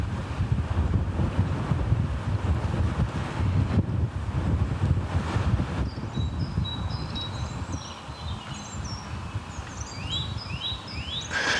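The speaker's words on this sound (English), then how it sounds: "it's really windy up there" Steady wind roars and buffets the microphone throughout, with faint high bird chirps appearing toward the end.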